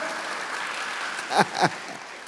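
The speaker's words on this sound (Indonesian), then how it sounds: "Tepuk tangan bagi Allah kita." Congregation applauding during a church worship service, a steady broad wash of clapping across the room with a couple of louder close bursts near the end.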